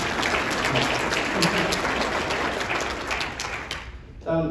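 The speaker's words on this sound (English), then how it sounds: "Give him a round of applause too" Loud, dense applause fills the room at the Guelph State of the City address as the audience claps for the mayor's son, then fades out and a voice begins talking near the end.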